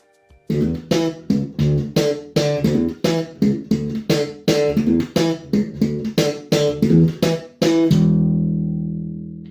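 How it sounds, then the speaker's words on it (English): Punchy slap bass with percussive thumb slaps and snappy index-finger pops on the higher string in a steady funky rhythm, ending on a sustained ringing note. "The probably coolest technique on the bass is the so-called slapping."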